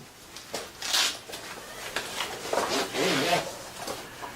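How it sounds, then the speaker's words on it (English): Wetsuit zipper being pulled open, a few soft rasping zips and rubs close by, quiet and alone with no talking. "So it starts by unzipping the suit"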